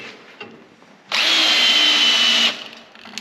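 Makita drill on its slow setting driving a tap into metal, a single steady whine lasting just over a second, close and loud, starting and stopping cleanly against a quiet background.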